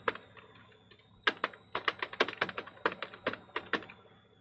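Steady typing on a computer keyboard while a CV is put together, with quick irregular keystrokes, close and crisp, and no voices over them.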